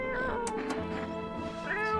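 A cat meows and yowls in the horror video game No I'm Not a Human, a few drawn-out cries over steady game music and background sound.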